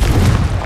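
Confringo explosive spell blast in the Hogwarts Legacy video game, set in a cave, a single short deep boom with a rumbling low body, loud and close.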